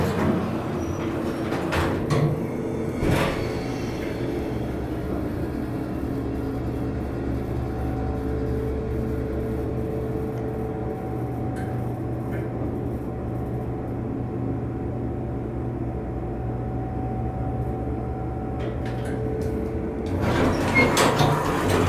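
A late-1970s Dover traditional hydraulic elevator's motor runs with a steady, droning low hum that continues for about twenty seconds, with a door or mechanical clunk near the start and again at the end, and a fan is also running.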